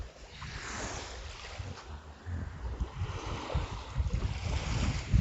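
Calm sea waves on the Bicol coast wash gently against the shore, with rumbling surf and some wind buffeting the microphone.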